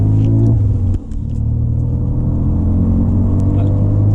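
Renault Mégane 3 RS engine on a road test, a steady close low rumble from inside the car with a slight dip and recovery in the revs, continuing throughout.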